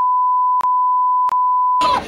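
A steady, loud electronic censor beep holds one pitch, cut by two short gaps. A burst of noise follows at the end.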